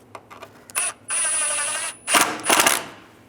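A power tool tightens screws on the radiator brackets of a 2005–2010 Volkswagen Jetta. It gives short whirring bursts, one sustained run of about a second, then two more quick bursts. The sound is close and clear, with no voices.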